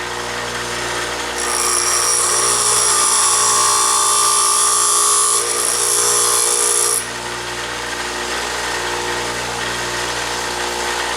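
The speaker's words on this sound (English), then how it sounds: "Now you want to get the side of the grinding wheel about a 32nd of an inch inside of the flute" A bench grinder hums steadily while a drill bit is sharpened against the side of its grinding wheel, a loud bright grinding rasp rising for several seconds in the middle before easing back to the motor's drone.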